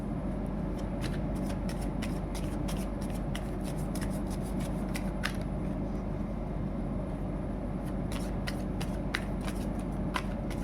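Tarot cards are shuffled and drawn by hand, making repeated crisp flicking snaps over a steady, loud background hum, with no talking.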